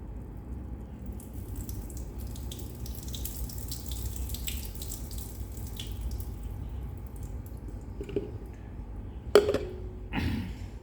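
Water running from a tap for rinsing, a steady soft splashing stream with occasional drips and a couple of louder knocks near the end, close by, no talk.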